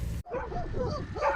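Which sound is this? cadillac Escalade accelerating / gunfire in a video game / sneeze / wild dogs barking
wild dogs barking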